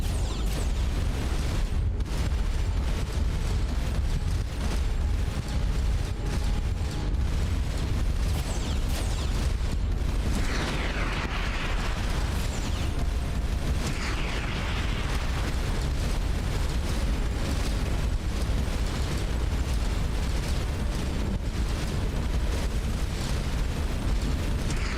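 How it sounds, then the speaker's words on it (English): Missiles launch and burst in a space battle in the video game Starcom: Unknown Space, a dense, continuous roar of explosions and booms filling the whole stretch, loud and unbroken with no talk. "How did it launch so many missiles from one spot?"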